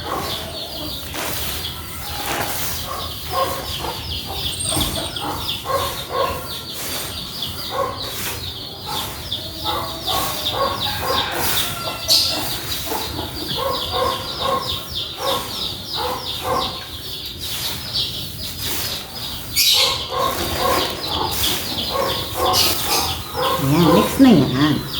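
Chickens cluck and call steadily around a spot where they are being fed a grain mix with corn, with a person talking at times over the birds.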